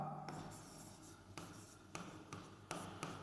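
Pen writing a maths solution on paper, close scratchy strokes with sharp taps between lines, steady and unaccompanied by speech.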